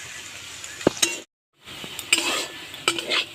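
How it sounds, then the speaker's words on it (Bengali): Potatoes fry in hot oil in a wok while a utensil stirs and scrapes them, with soft sizzling and a few sharp clinks, broken by a brief silent gap. "এখন আমি আলু ভেজে নেবো এর ভেতরে"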